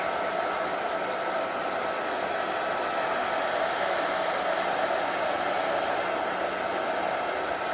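A hair dryer blows steadily on Doculam film over tissue covering a model aircraft, a constant close, loud whooshing hiss with no breaks and no talking.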